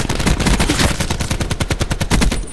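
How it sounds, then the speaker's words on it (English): Loud, close automatic gunfire from Call of Duty: Black Ops 4 rattles in rapid, continuous bursts for the whole clip. "someone else shooting?"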